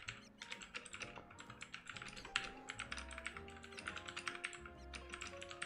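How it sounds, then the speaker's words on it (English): Rapid, quiet clicking of keys on a computer keyboard comes in bursts of irregular strokes, close up with faint background music and no talking. "I started typing what I was saying."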